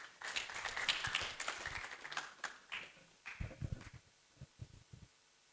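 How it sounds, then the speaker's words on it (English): A short burst of audience clapping fades out, followed by a few scattered, isolated claps. "Let's clap for him"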